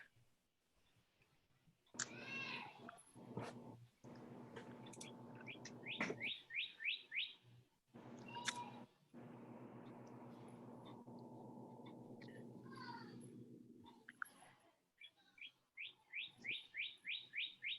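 A bird chirps in short bursts of bright, rapid tweets and trills over a steady low hum, quiet and somewhat distant, with brief pauses between phrases.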